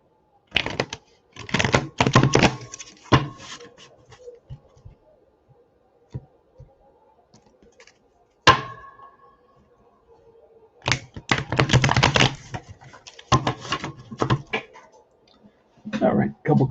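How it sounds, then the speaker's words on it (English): Baseball game cards are shuffled by hand in several quick, crisp bursts of riffling and flicking, separated by pauses with faint room noise. "We're going to take these cards and give them a little mini shuffle here."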